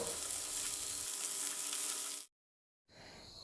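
Fiddlehead fern with potatoes and onion fries in a pan, giving a steady, close hiss that cuts off briefly and then resumes more quietly.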